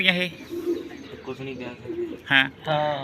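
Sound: pigeons cooing

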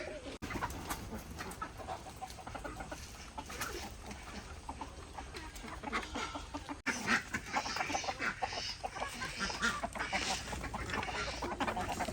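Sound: chickens clucking

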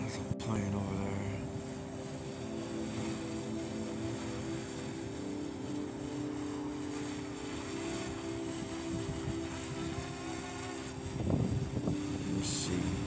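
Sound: airplane flying overhead

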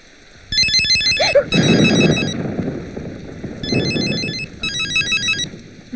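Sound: telephone ringing

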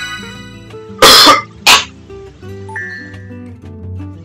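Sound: cough

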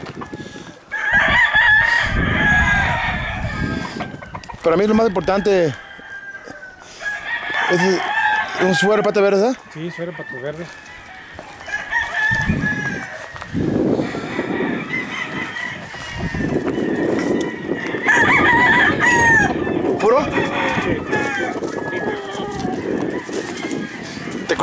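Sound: roosters crowing in a gamecock yard

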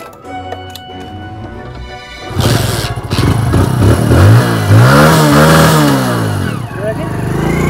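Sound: motorcycle engine revving at petrol pump

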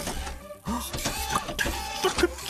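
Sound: cartoon robot vacuum cleaner dusting

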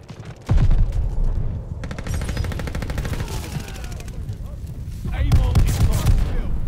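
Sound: shotgun fire in a video game

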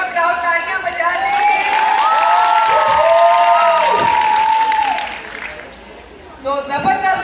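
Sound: crowd clapping and cheering

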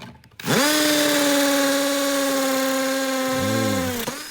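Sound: cordless screwdriver driving a screw

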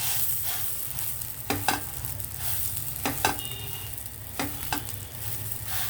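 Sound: chana toast roasting in ghee in a pan

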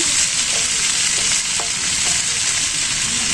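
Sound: chicken meat added to pan and stirred while frying

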